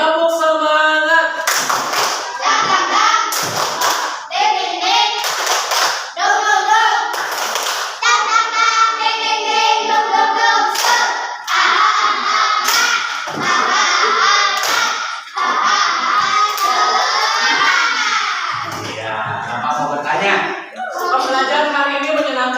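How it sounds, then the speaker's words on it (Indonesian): A class of children does a rhythmic spirit clap in a classroom, sharp clap bursts in patterned groups mixed with loud chanting voices throughout. "Tepuk semangat."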